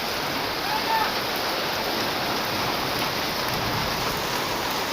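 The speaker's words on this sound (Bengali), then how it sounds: "আর এখানে তো মুষলধারে বৃষ্টি হইতেছে" Heavy monsoon downpour in Agartala, a dense, steady roar of rain close by that holds unbroken and loud from start to end.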